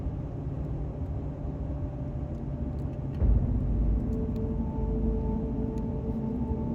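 A car drives steadily while storm chasing near a tornado in South Dakota, a constant low engine and road rumble with a brief louder thump partway through, no talking.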